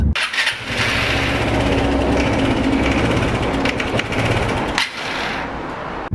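A small motorcycle engine, one that stalls when the throttle is opened, runs steadily at idle, a loud continuous putter with a brief dip near the end.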